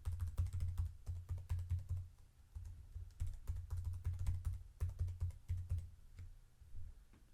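A username and password are typed on a computer keyboard in quick bursts of close, crisp key clicks, with a short pause midway, while setting up a Microsoft Azure virtual machine.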